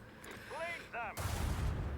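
Torpedoes launching in Warhammer 40K: Rogue Trader, with a brief rising tonal whoosh, then a second swept tone, then a loud, dense rumbling burst that carries on to the end.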